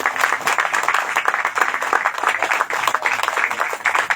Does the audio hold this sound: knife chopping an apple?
no